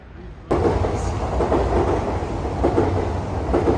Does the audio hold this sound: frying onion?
no